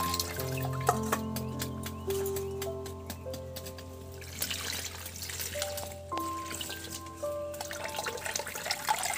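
Cold water poured over boiled potatoes in a kitchen while cooking jeera aloo, a steady trickling and splashing that runs under a bed of sustained tonal sound and grows fuller and hissier in the second half.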